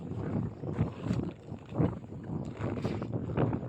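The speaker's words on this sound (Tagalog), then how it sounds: "Ang lakas ng hangin." Strong wind buffets the microphone in a steady low rumble, with gusts swelling and easing throughout.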